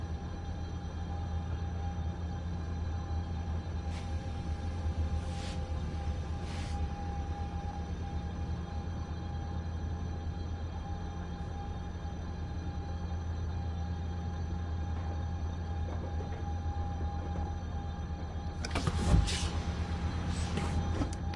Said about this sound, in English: This train is awful sounding.